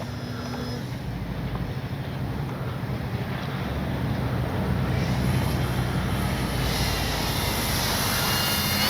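A Dynam Beaver V2 RC airplane flies overhead, its small electric motor a steady buzzing drone that swells slightly louder toward the end, with wind noise on the microphone.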